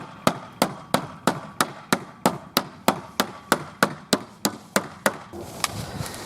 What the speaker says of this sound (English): Hammer these boards back in.